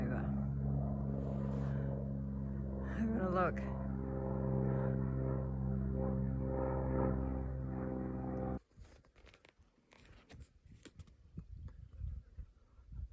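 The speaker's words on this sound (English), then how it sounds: "The plane going over." A propeller aircraft passes overhead during a Simpson Desert trip in a Sprinter van, a steady droning hum with tonal harmonics for about eight seconds, then cutting to rustling handling noise with a brief spoken remark.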